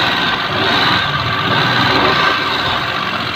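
A Maruti 800 car engine idles with a steady, close, continuous rumble and hum, holding an even level throughout with no break.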